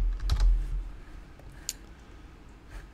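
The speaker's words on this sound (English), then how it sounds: "so we're gonna have to type that manually, unfortunately" Someone typing a password on a computer keyboard: a short cluster of quick key clicks, then a few isolated taps, close and fairly quiet.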